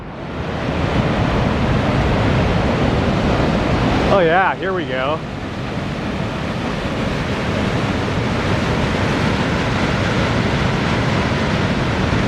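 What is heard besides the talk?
waterfall and creek water rushing below a bridge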